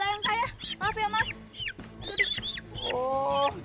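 Chickens clucking and squawking nearby in an excited, uneven run of calls, heard alongside people talking.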